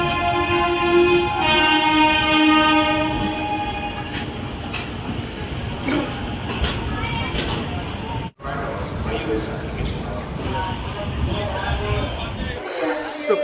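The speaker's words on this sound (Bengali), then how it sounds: "আমাদের ট্রেন এখন পৌঁছেছে পাটনা জংশনে" A long-distance train from Howrah pulls into Patna Junction, with a loud sustained horn blast at the start, then rolling wagon rumble and clanks, and station crowd chatter underneath.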